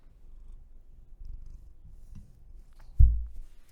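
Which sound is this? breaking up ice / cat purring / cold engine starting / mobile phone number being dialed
cat purring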